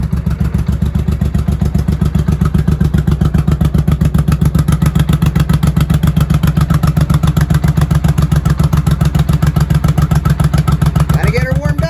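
A 1983 Honda Shadow VT750C engine running on starting fluid, loud and close, with a fast, even, pulsing idle that holds steady throughout.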